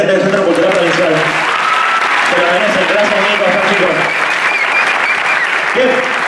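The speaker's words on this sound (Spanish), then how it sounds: "Un aplauso para la gente del Centro Cultural Provincial" Loud, sustained applause from a theatre audience for the cultural centre crew at a choreography show. The clapping is dense and unbroken, with a host's voice and some music heard over it.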